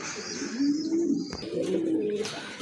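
Pigeons coo softly and repeatedly nearby in low, rolling tones, with a brief sharp tap in the middle.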